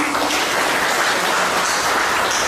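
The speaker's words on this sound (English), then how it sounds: "A round of applause, please." An audience at a Ghanaian community gathering in Tripoli, Libya applauds steadily, a dense wash of clapping from many hands holding even throughout.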